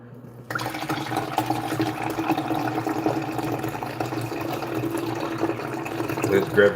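Blended pomegranate juice being poured in a kitchen, a continuous liquid pouring and splashing that starts abruptly and runs steadily, close and clear, with a voice speaking briefly.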